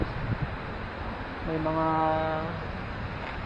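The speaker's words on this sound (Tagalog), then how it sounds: "pabugso-bugso yung hangin" Gusty wind blows outdoors at a garden resort in Batangas, a steady rushing roar across the whole clip that swells around the middle, with a brief bit of speech and a voice heard beneath it.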